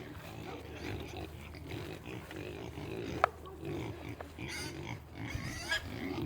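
Pigs grunt and shuffle on a farm, low snorts and rooting noises at moderate distance over a steady outdoor background, with a few sharper clanks and a person speaking faintly at times.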